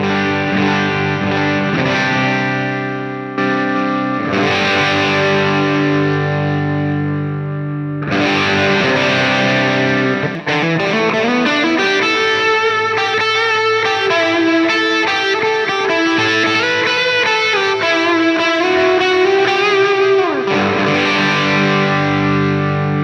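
An electric guitar runs through a POD Go preset on its fourth snapshot, gain lowered and drive raised, giving a loud driven tone: chords strummed first, then sustained bending lead notes, played alone without talk.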